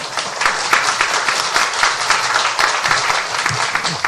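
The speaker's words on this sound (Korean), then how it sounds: "박수를 보내주시죠" A church congregation applauds steadily at a Sunday service, dense overlapping claps sustained at an even level for a few seconds, with no talking.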